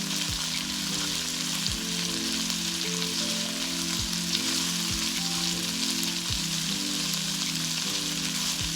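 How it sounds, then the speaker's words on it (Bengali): Steady, close sizzling of ginger and garlic frying in a pan, with a faint repeating mechanical hum underneath and no talking. "এগুলো একটু সুন্দর করে ভেজে নিতে হবে আদা আর রসুনের একটা সুন্দর স্মেল আসছে"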